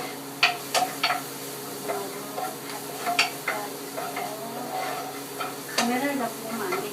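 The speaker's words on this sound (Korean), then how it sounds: "프라이팬에 마늘을 노릇노릇하게 볶아주세요." Garlic frying in a pan for mapo tofu, stirred with repeated sharp scraping taps over a steady sizzle; a voice occasionally murmurs underneath.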